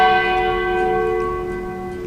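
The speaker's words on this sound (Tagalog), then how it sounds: "Arog ka ini ang tanog kang kampana." A single bell tone rings and sustains, slowly decaying with a rich, resonant hum and no other sounds.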